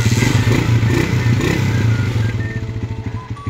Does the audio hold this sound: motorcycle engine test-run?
yes